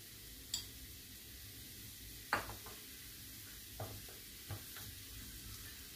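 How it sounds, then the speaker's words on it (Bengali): Two spoons of ghee sizzling in a pan for red carrot halwa, a soft steady sizzle broken by several distinct clinks and scrapes of stirring. "2 চামচ ঘি দিচ্ছি"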